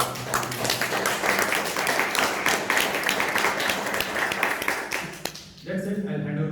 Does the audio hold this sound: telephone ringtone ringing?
no